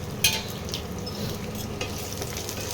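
Chopped ginger and green chili sizzling in hot oil for tempering, a continuous crackling fry with a few stirring scrapes, close and steady, no voices.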